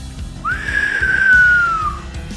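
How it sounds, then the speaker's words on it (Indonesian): A loud, shrill whistle in an audiobook tale set by a village, one long sustained tone that slides slightly downward over about a second and a half, clear above low background noise. "didengarnya suatu suara suitan nyaring di sebelah barat kampung"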